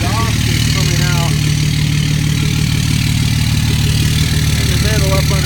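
A 2005 Cummins diesel pickup with a lift and tow package idles loud and close, its low steady rumble running unbroken while someone talks over it.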